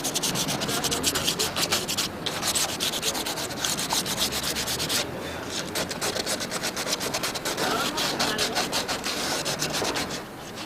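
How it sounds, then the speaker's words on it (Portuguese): Sandpaper rubs steadily back and forth over the ends of PVC sewer pipes and fitting sockets at a building site, a loud, close, continuous rhythmic scraping with no speech. "Depois você vai lixar as pontas dos tubos e as bolsas das conexões."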